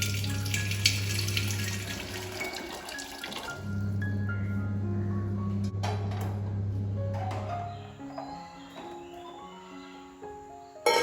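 Water pours in a steady stream over a low, constant hum, with no voices.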